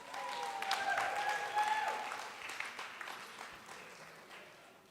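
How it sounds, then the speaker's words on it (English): Audience applause at a charity fundraiser for Ukraine, steady broadband clapping from a crowd in a hall, strongest at first and slowly fading out across the clip. "Everybody give our folks at the silent auction a round of applause."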